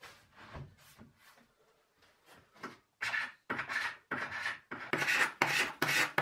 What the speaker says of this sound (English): Once the epoxy has dried, the best way to achieve a flat surface is by using a scraper like this.